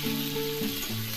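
Chopped bottle gourd hits hot oil seasoned with whole cumin seeds in a pan, making a brief, close, continuous sizzle.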